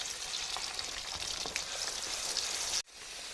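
Ground masala paste for a raw banana fry sizzling in hot oil, a soft even hiss with light crackles, briefly cutting out near the end before resuming.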